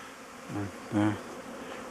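Honey bees fly around hives at an apiary, their buzzing rising and fading as a couple of insects pass close by over a steady outdoor background hum.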